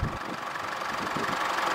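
A 2016 Isuzu D-Max 2.5 litre twin turbo four-cylinder diesel idles with a steady, rough, knocking rumble and broadband hiss, close and continuous with no talk.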